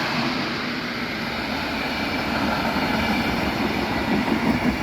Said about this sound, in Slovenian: prihaja za tem transportnim vlakom prihaja potniški vlak